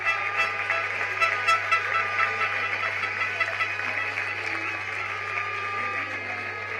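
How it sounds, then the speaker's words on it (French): A rugby crowd applauds as the Clermont fly-half steps up to kick at the under-23 final against Bordeaux-Bègles, a steady wash of clapping and crowd noise under a commentator talking throughout. "ça va être Théo de France, copieusement applaudi et chaleureusement applaudi par le public"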